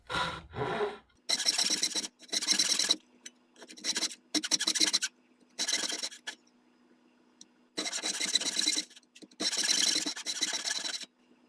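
A hand saw cuts into a wooden military rifle buttstock in separate bursts of rasping back-and-forth strokes, close and loud, with short quiet pauses between the runs.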